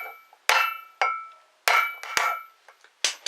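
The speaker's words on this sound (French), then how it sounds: "vous allez prendre un autre outil et vous allez taper que d'un côté" Metal tool strikes tap a new wheel bearing into place, about six sharp ringing blows spaced roughly half a second apart, close and clear with no talk.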